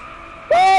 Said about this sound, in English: I cannot believe how drifty this Ferrari is.